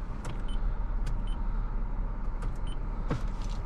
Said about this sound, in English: let's fire up this Lexus